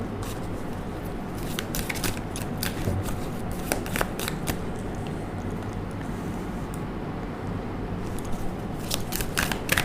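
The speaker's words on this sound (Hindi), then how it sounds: "जब तक मैं कार्ड्स को शफल कर रही हूँ" Tarot cards are shuffled by hand in a quiet room, a continuous soft riffling and slapping with crisp flicks scattered through, close and fairly faint.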